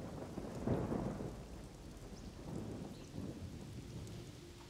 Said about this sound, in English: getting wet, but luckily this storm is clearing